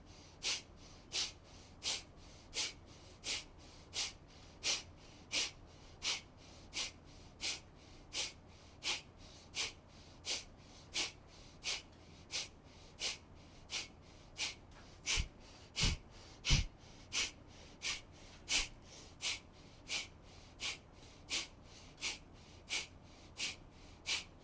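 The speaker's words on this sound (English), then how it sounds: "continuing a breath of fire" Breath of fire is practised in a seated twist: quick, forceful nasal exhalations repeat at an even pace of about one per second, sharp hissing snorts close to the microphone against a quiet room.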